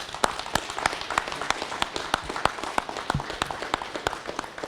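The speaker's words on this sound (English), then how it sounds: "let's give a nice big round of applause to our salute honoree this month, Officer Matthew Oldham." Scattered applause from a small audience at a salute ceremony honoring a police officer and his K9, with distinct individual claps in a steady patter at moderate volume.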